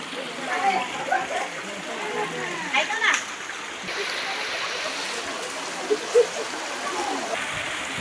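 Water splashes and sprays at the reverse waterfall at Naneghat during monsoon rain, a steady rushing wash with brief louder gusts.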